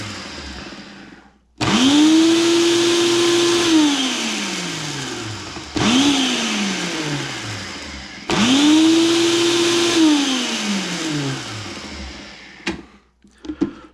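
Electric grinder pulsing seed samples into fine flour, three loud close bursts of whining motor, each spinning up and then winding down in pitch between pulses, then quiet handling noises.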